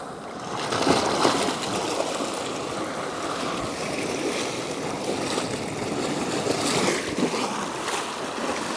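Sea water surges and washes over a rocky coastline, a continuous broadband rush with swelling waves, no voices.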